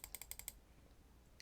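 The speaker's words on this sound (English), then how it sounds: "I'm just going to type in the stuff here." A rapid burst of about seven keystrokes on a computer keyboard, quiet and close, followed by a pause and one more faint tap.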